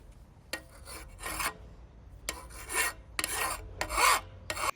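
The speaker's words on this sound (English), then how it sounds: "Now you need to sharpen the knife by removing excess metal from the marked side of the knife." Hand file rasping excess metal off the marked side of a lawnmower blade, five distinct bursts of scraping strokes with short pauses between, close and fairly loud, no talk.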